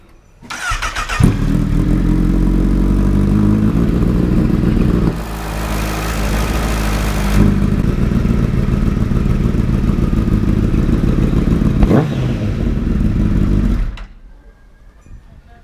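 Honda CBR 1000RR sport motorcycle engine with its exhaust refitted to the original setup, revving loudly and close up in sustained bursts for about thirteen seconds with rising and falling pitch, then cutting to quiet idle.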